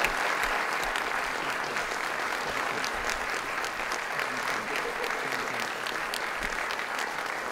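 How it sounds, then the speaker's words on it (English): An audience applauds after a debate, dense sustained clapping from a room full of people that stays steady and fairly close throughout, with no voices rising above it. "let's give them a round of applause."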